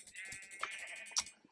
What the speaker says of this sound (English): I found a shit ton of sheep